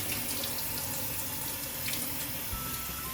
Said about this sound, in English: You must rinse it under cold water.